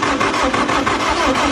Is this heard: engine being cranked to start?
yes